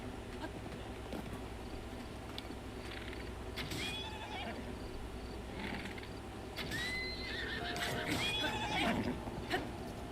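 Horses in The Legend of Zelda: Breath of the Wild whinny over a steady game soundscape, with a couple of rising, wavering neigh calls around the middle and again near the end, moderately close and set against a busy ambient bed.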